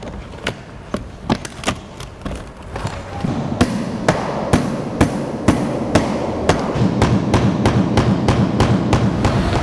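Hammer blows drive nails through overlapping Decra metal roof tiles, sharp distinct strikes in an uneven series of more than a dozen, close and loud over a low background rumble, with no talking.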